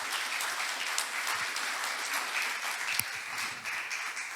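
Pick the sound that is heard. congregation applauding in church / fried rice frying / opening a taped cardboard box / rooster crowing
congregation applauding in church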